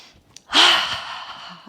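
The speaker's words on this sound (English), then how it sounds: "Let's take a nice deep breath in through the nose. And make a ha sound as you exhale." A yoga breathing exercise: a faint quick inhale through the nose, then a loud, breathy open-mouthed 'ha' exhale that fades out over about a second, close to the listener.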